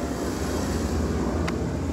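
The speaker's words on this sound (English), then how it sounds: "Sorry for the audio, the garbage truck's going by." A garbage truck rumbles by outside, a steady loud low drone filling the short stretch, with a faint brief clink partway through.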